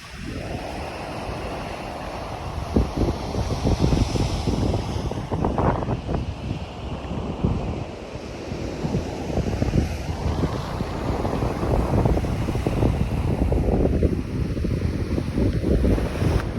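Ocean surf breaking on the shore near Halifax, Canada, a steady broad roar with rising and falling wave washes, heavy wind buffeting the microphone throughout, no talking.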